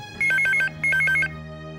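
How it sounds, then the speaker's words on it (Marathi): A telephone rings late at night in a house, giving two loud bursts of rapid electronic trilling with a short gap between them and a low background hum. "इतक्या रात्री कोणाचा फोन आहे?"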